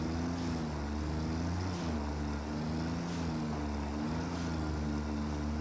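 Tractor engine from the video game Satisfactory, a steady droning motor hum holding a constant low pitch with slight wavering, continuous and fairly faint, with no talking.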